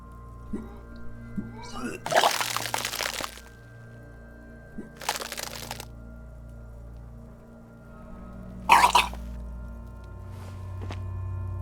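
Retching and vomiting sound effect from the video game Disco Elysium: three separate wet, gushing bursts spaced a few seconds apart over quiet low ambience, the middle burst shorter than the first.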